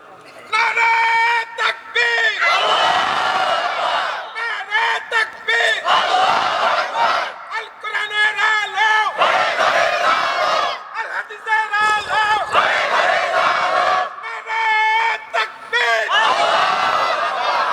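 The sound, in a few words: crowd loudly shouting takbir (Allahu Akbar)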